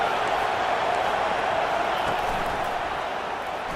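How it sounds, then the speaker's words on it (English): A dense, steady roar from a packed stadium crowd in a football video game, loud and sustained for the whole moment, with a commentator's voice faintly under the noise. "this crowd is tearing the lid off this place"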